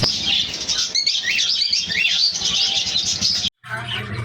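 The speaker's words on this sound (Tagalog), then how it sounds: "yan po yung mga ibon, kulungan na nasa loob ng aking ibunan" Dense, busy chirping and twittering from many budgerigars in an aviary fills the space continuously, close and lively, with a brief cut near the end.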